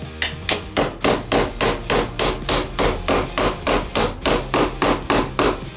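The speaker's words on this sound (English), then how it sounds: "Then you just take your hammer," Steady hammer blows driving a metal hinge pin into a door hinge, about fifteen evenly spaced strikes, close and loud with a bright ringing edge, no voices.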